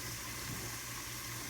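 Water poured into a pot of goat curry during cooking, a steady close wash of running liquid with a low hum underneath, continuous for the whole moment with no talking.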